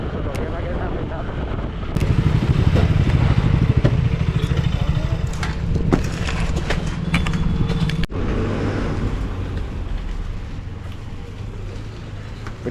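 Off-road motorcycles, an Xpulse and a Yezdi Scrambler, with a close engine revving in a throbbing rumble that later settles to a lower idle, mixed with wind noise and people talking.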